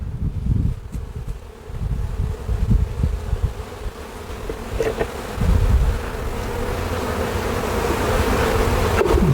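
Honeybees swarm around an opened hive showing brood and larvae on a warm, cloudy day, their continuous droning buzz close and loud, rising and falling as individual bees pass near, with brief rustling and handling noises.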